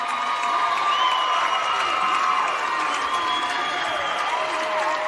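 A crowd at an ice hockey grand final cheers and applauds continuously, with dense clapping, shouts and whistles filling the arena at a steady, loud level without a break.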